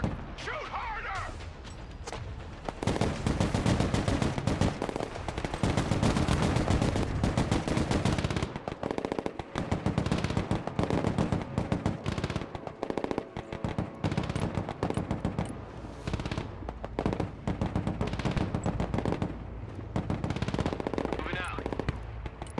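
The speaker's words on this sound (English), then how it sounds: "If shooting doesn't work, shoot harder!" Sustained machine-gun fire and rapid gunshots in the military video game Broken Arrow, loud and nearly continuous, with brief pauses and voices calling out beneath the shooting.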